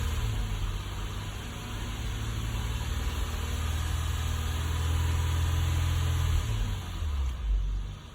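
A car engine revved and held at about 2,000–3,000 RPM during a battery and charging system test, a steady loud low drone that drops off near the end as the accelerator is released, with no one talking.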